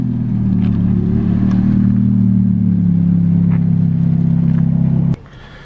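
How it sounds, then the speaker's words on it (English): A Ferrari F430 sports car cruising alongside, its engine a loud, steady low rumble that holds for about five seconds before abruptly dropping away. "Ferrari F430. This thing is incredible."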